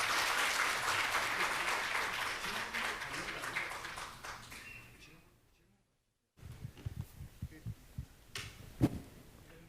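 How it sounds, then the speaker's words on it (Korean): Hall audience at a National Assembly Library keynote event applauding a judge, a dense sustained clapping wash that fades out to a short silence, then resumes more sparsely with scattered individual claps. "강민구 부장판사님께 다시 한번 뜨거운 박수 부탁드리겠습니다"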